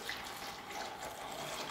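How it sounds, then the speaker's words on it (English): Boiling water, about 50 ml, pours from a kettle into a jug in a kitchen, a brief, steady splashing trickle that is fairly soft and heard alone. "this is boiling water. There's 50 mils of it, and it's going into the jug"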